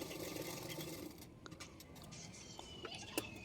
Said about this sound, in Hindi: मैं अभी दूसरा पार्टों को भी मैं इस तरह से जॉइन करके सिलाई कर लूँगी